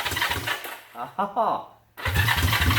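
A 1970s-era Honda CB350 motorcycle engine, restored from a basket case with the choke on, cranks on its first start attempt in close, loud, rapid churning bursts, briefly broken by a short spoken exclamation before cranking resumes.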